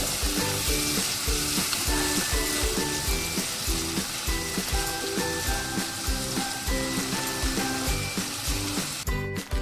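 Mustard and cumin paste with green chilies sautés in a pan, giving a loud, continuous close-up sizzle with a rhythmic pulsing churn from the stirring.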